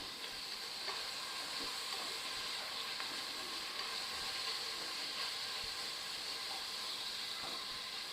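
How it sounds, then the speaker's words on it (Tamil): Onions frying in oil in a pan give off a steady, even sizzling hiss that runs the whole time without a break, with no voices over it. "ஃபுல்லாக வெங்காயத்தை இந்த எண்ணெயில் போட்டு நம்ம வதக்க ஆரம்பிச்சிடலாம்"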